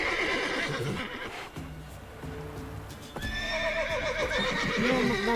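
Horses in The Witcher 3 neighing and whinnying loudly, with hooves clip-clopping underneath and several overlapping cries rising in the second half, an agitated, busy scene with no talking.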